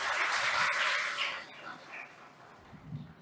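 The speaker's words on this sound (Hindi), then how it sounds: "ताली।" Applause from an audience at a Hindi Day school celebration welcoming a guest: a burst of clapping that fades out after about a second and a half, followed by quieter murmurs.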